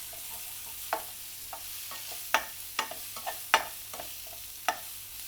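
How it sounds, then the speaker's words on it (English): Ginger sizzles gently in a frying pan as a vegan paneer dish is cooked, with scattered sharp clinks and scrapes of a utensil stirring it, fairly quiet and close with no talking. "So we're going to add the ginger to the pan. Give it a good stir."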